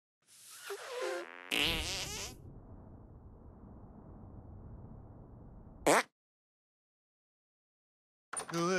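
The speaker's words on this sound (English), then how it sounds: "Make your fart detonate behind me." Cartoon fart detonation from the South Park: The Stick of Truth video game, a long low rumbling blast lasting several seconds after a brief rising squeal, then a sharp burst and silence.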